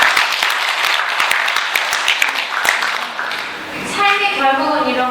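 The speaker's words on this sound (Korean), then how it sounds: "박수" An audience claps in loud, dense applause that continues steadily, easing slightly near the end as soft tonal sounds rise beneath it.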